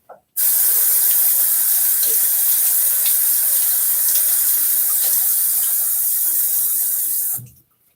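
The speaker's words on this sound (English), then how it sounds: "Get my face wet." A bathroom tap runs at full flow while a face is wetted before a shave; the loud, steady rush starts abruptly, holds for about seven seconds and then stops.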